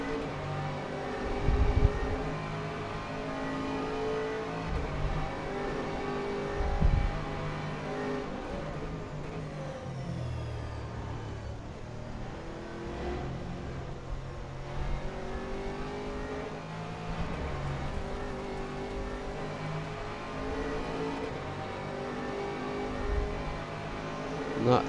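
GT3 race cars lapping Monza in a racing video game: continuous engine drone with rising and falling revs and gear changes, rival cars close by, and no speech.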